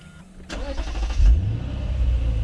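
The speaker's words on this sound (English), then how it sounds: "So you got that throbbing, deep, bassy V8 engine" A 2020 Lexus RC F Track Edition with a naturally aspirated V8 cranks and fires at close range, a sharp start flaring into a brief deep rev before settling into a loud, throbbing idle.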